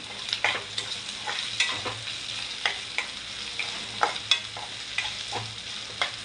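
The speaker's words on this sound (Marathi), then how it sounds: "मिरची आणि कांदा तेलात व्यवस्थित परतून घ्यायचा आपल्याला कोकम टाकून घेऊया" Chilli and onion sauté in hot oil with kokum, a steady close sizzle broken by repeated spatula scrapes and stirs against the pan, no voices.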